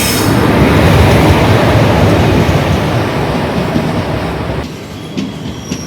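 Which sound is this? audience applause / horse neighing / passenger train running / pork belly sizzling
passenger train running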